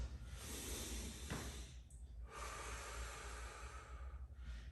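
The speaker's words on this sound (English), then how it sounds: "Let's get some deep breaths in first" Deep, slow breaths during a kettlebell workout with oblique crunches, each long inhale and exhale rushing close to the microphone, with short pauses between and no speech.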